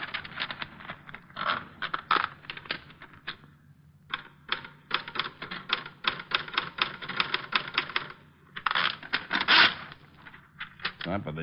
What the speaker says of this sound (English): There's a typewriter.